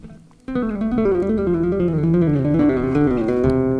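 Bass guitar plays a fast linear tapping run down a scale along one string: a loud, close, unbroken stream of sustained, ringing notes that starts abruptly after a short quiet moment.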